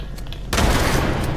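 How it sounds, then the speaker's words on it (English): A grenade blast with gunfire in the video game Fallout 76: quiet background noise breaks into a sudden loud, sustained roar of explosion and shooting. "Another grenade."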